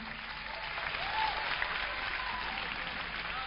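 A concert audience applauds the bass player, a dense, even wash of clapping that holds steady throughout at moderate distance.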